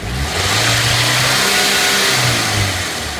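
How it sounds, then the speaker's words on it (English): A TFSI car engine with a running fault revs up loudly and holds a high pitch before easing back, a close, continuous drone without speech. "I'm just going to try and rev it up now"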